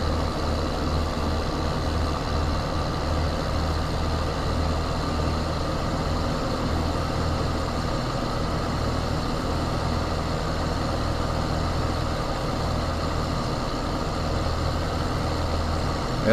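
Steady low engine drone from a tractor plowing a field in Farming Simulator, a heavy, constant idle-like rumble that holds unchanged and close for the whole stretch, with no voices over it.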